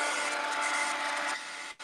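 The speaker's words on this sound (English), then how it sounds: "I gotta do my blow dryer one more time" A handheld blow dryer, apparently used to dry paint, runs close with a steady whirring hiss and a faint tonal whine. It drops in level and cuts off just before the end.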